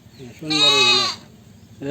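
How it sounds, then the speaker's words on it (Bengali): A single loud, wavering goat bleat sounds close by, with a short voice starting up just after it. "এই ছাগল"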